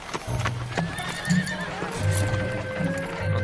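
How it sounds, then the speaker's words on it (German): Horses ridden calmly home clip-clop steadily at close range, with a horse neighing and whinnying loudly over the hoofbeats, no talking. "Wir reiten jetzt schön ruhig nach Hause."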